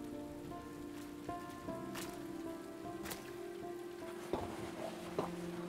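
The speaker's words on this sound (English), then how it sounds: "let's wait out the rain in the booth." Rain in the video game Road 96 falls in a steady wash of patter, with a few sharper drip hits and a low hum of game ambience beneath, no voices over it.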